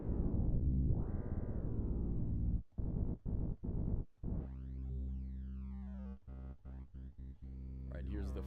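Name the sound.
metallic FM synth tone in Ableton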